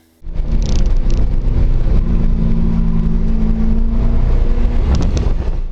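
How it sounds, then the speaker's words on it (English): A base model C6 Corvette drives on a racetrack, its engine and rushing wind forming a loud, steady roar that holds almost unbroken from start to finish. "tracking a base model C6 Corvette"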